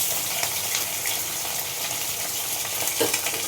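Fish frying in hot oil make a constant dense crackling sizzle, close and fairly loud, with a faint stirring scrape partway through and no speech.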